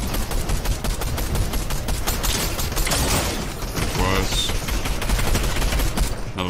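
Rapid gunfire fills a Fortnite match, dense bursts of automatic shots rattling close and loud almost without pause, with a brief lull in the middle.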